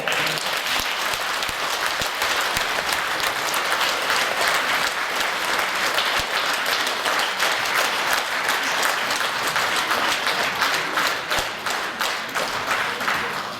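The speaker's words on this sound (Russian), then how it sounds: "бурными аплодисментами встречайте народный фольклорный ансамбль Чонкоглеры" Thunderous audience applause welcomes the Khakass folk ensemble Chon Köglery on stage: a continuous, full wash of many hands clapping, loud and steady throughout.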